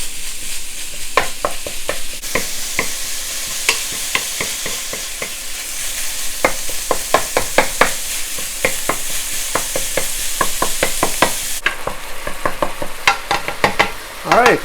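Fatty minced pork sizzles loudly in a hot wok while a spatula breaks it apart, its rapid sharp scrapes and clacks repeating in busy bursts over the constant frying hiss.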